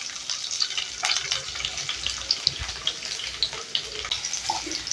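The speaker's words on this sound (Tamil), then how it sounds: "இப்போ நல்லா தட்டி வச்சிருக்கிற ஒரு மூணு பூண்டு போட்டுக்கிறேன்" Crushed garlic and dried red chillies fry in a pan for a greens stir-fry, with a steady close sizzle and scattered small pops and crackles throughout.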